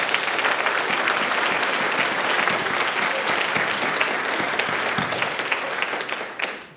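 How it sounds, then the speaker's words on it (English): Audience applause fills a debate hall at a 2018 Arizona Democratic gubernatorial debate hosted by a university Young Democrats group, steady dense clapping that holds for several seconds before tapering off at the end. "let's give a round of applause to them."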